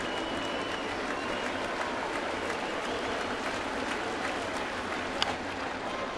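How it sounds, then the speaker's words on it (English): A large baseball stadium crowd at a Red Sox at Yankees game buzzes and cheers steadily for a strikeout, a continuous loud roar of many voices with a brief sharp accent near the end. "Crowd buzzing for a strikeout"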